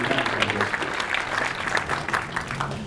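Steady applause from a large audience honoring community support at a Manhattan Project National Historic Park gathering, dense continuous clapping filling the room at a moderate level for the whole stretch.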